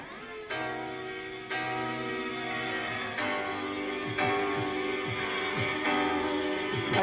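Soul music sampled in a 1994 jungle track, sustained vocal and instrumental tones over low bass, with a chopped, restarting rhythm, moderately loud and alone.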